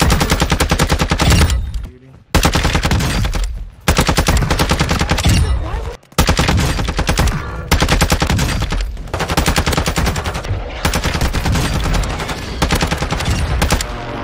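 Long sustained bursts of automatic gunfire from a max-level Hemlock assault rifle in Warzone 2 on Ashika Island, loud and continuous with a few short pauses between volleys.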